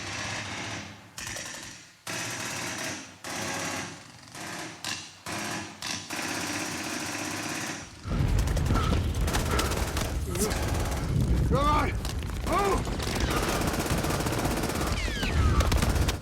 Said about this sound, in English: MG42 was the machine gun the Germans had that fired at a faster rate than any of the Allied machine guns.